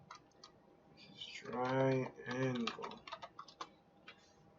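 Keys are typed on a computer keyboard, giving a few faint, quick clicks that follow a stretch of talking.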